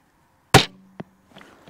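A single sharp shot from a 150 lb Steambow crossbow snaps loudly at a 25 m target, followed by a short twang and a faint thud a moment later.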